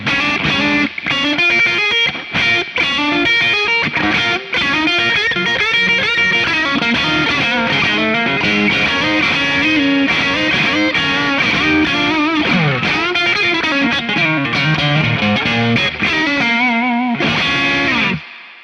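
Electric guitar on the neck pickup through a hot blackface-style overdrive pedal, playing Texas blues lead lines with bends and sustained distorted notes, loud and continuous before stopping abruptly.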